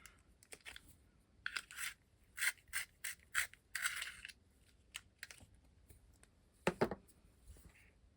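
An orange pencil sharpened by hand, giving a series of short dry scraping and grinding bursts in an uneven rhythm, close and fairly quiet, with small clicks between the turns.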